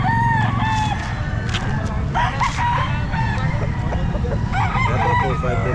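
A rooster crows loudly nearby over a constant low engine-like rumble, with other chickens clucking in the background.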